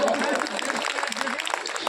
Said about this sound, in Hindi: ताली ठोको।